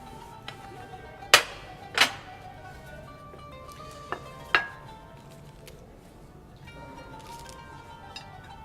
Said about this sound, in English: now our chef is taking the cookies out of the oven tray